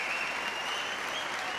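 Boxing arena crowd applauding steadily at a professional fight, a dense, continuous wash of clapping from a large audience throughout.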